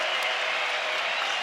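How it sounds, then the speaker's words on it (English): A basketball arena crowd cheers and applauds as Utah State plays well against Nevada in an NCAA game, a dense, steady roar of clapping and shouts filling the whole moment. "Utah State's playing well. The crowd loves it."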